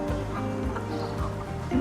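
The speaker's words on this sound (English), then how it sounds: "the chickens have found the dust wallow I made for them" Chickens at a dust wallow cluck softly and repeatedly nearby, low murmuring calls over a steady outdoor background.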